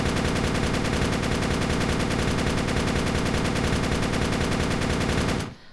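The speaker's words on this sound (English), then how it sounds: "Whenever you start spraying with the machine gun, your shots are gonna go left, right, and center." MG240 machine gun firing in the video game Darkest Days, one continuous loud burst of rapid, evenly spaced shots that stops abruptly near the end.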